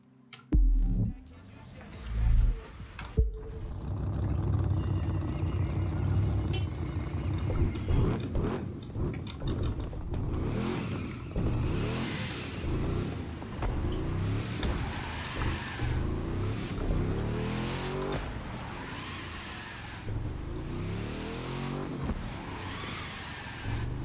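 Revving Dodge Viper engine in The Crew 2 video game, with rising and falling pitch as it accelerates and shifts, some skidding and bumps, continuous and fairly close.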